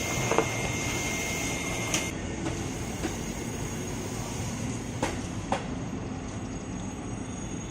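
A commuter train departs track 3 at Manggarai station, a steady low rumble filling the platform with a few sharp clanks and faint squeals over the continuous rolling noise, no talking.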